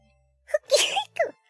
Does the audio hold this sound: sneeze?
yes